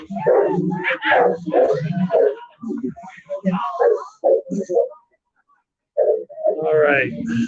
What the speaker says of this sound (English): I hear a big old dog barking.